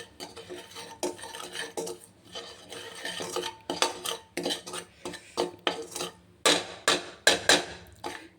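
Spicy puffed rice (mandakki) stirred in a pan over low heat: repeated scraping and clinking of a spoon against metal in an irregular rhythm, close and fairly loud, with no talking.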